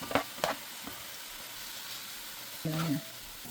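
Onion and garlic frying in clarified butter for a mussel curry, giving a steady, fairly quiet sizzle throughout with a few brief stirring knocks near the start and a short voice near the end.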